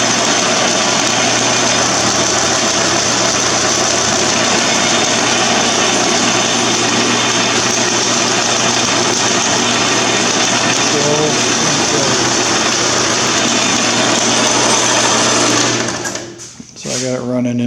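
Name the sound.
Logan lathe running on high-speed V-belt setting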